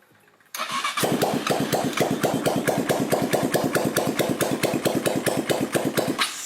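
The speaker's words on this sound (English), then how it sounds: "Got the carburetor on, the air filter on, so we're gonna try start it up." A mini jeep's small engine, freshly fitted with a carburetor and air filter, cranks and catches, then runs at a steady, loud, rapid chugging idle with an even rhythm throughout.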